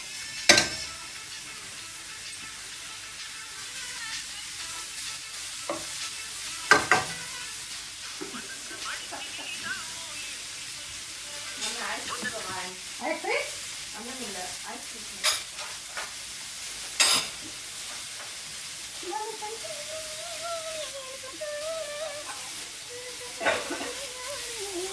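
Food fries in a pan with a steady sizzle and hiss, broken by repeated stirring and clinks of a utensil, as chopped green onion goes in at the end; a voice speaks occasionally.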